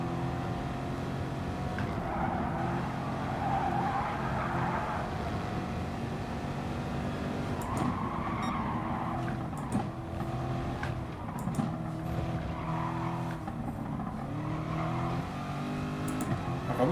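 A race car in the GT Sport video game, driven on a Fanatec direct-drive wheel setup, revs and slides with a sustained engine drone and shifting tire noise, steady and moderately loud throughout.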